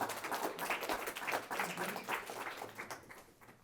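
An audience at an investor pitch event gives a short burst of moderate, fairly close clapping that gradually tapers off.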